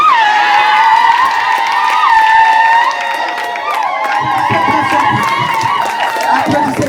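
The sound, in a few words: wedding guests applauding and cheering at civil wedding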